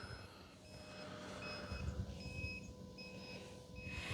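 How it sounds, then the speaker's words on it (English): A faint electronic battery low-voltage alarm on an OMP Hobby Fun Stick model airplane beeps in a steady repeating pattern over low rumbling background noise, with no talking. "Voltage alarm."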